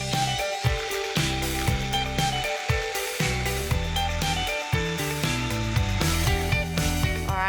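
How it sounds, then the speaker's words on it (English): A food processor blitzes a chilli lemon dressing, its motor whirring loudly and steadily with a harsh mechanical rattle and brief pulsing dips, no talking over it. "lid on, and I'm going to blitz this until that chilli has been roughly chopped and everything's mixed together"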